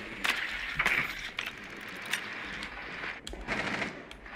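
Light machine gun fire in a first-person shooter, heard as several short bursts of sharp reports spaced across the moment, fairly close and clear with no voices over it.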